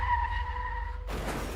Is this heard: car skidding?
yes